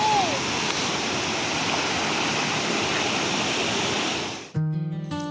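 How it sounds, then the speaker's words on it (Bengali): A waterfall near a bridge on a Sikkim mountain road rushes as a steady, loud, broadband roar for about four seconds, then cuts off abruptly. "ওয়াটারফল।"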